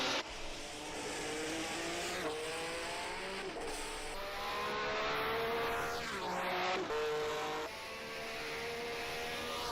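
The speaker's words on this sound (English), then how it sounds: "a nice sounding Honda of Costas Kanzeris. It's coming across the line for another lap." A 1967 Honda Formula One car in a racing game at Mount Panorama screams loudly past the line, its high engine note sweeping up then dropping in a clear Doppler pass amid steady race engine roar, with no talk.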